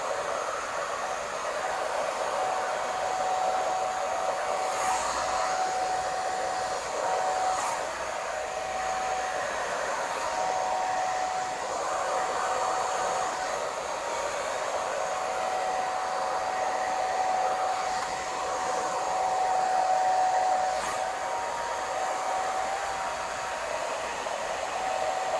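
A hooded hair dryer set to low heat blows hot air in a steady, even whoosh that stays constant and close for the whole stretch, with no voices.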